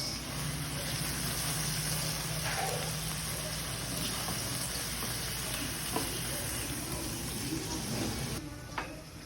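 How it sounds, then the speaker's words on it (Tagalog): Pieces of meat frying in a pan, sizzling steadily and loud while being stirred, with occasional scrapes and clinks of the utensil against the pan and a faint voice in the background. "Hinalo ko muna ang mga karne para maluto ito ng maayos."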